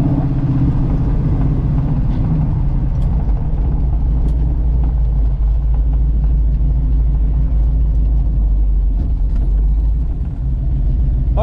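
A car geared low drives along a road. Its engine holds a loud, steady low rumble with constant road and wind noise throughout, and no talk.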